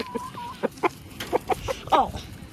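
A rooster at a farm gives a run of short, sharp clucks in uneven bursts, close and fairly loud, ending in a longer squawking call.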